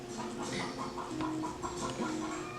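Egg-laying hens cluck repeatedly in a farm flock, a run of short, overlapping clucks and murmurs at moderate distance with a soft background hum.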